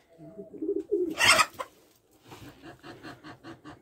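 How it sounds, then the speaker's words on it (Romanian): Homing pigeons in a loft coo and flutter close by, a few soft burbling calls followed by a rhythmic run of repeated low coos. "mai avem aici doar porumbeii voiajori și jucătorii de galați"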